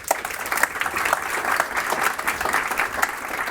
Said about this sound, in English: give it a round of applause for Rob.